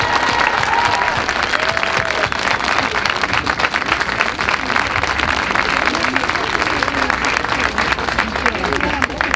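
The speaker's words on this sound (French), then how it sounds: "nous pouvons applaudir notre cher public de Pau" An audience in Pau applauds a southern French choir, a dense continuous clapping at close range that stays strong and even throughout, with voices mixed in.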